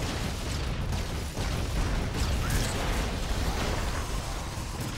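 Dense, continuous barrage of explosions in the side-scrolling action game Broforce, a loud rumbling roar of overlapping blasts with no clear breaks.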